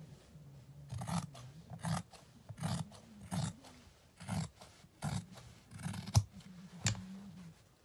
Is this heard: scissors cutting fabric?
yes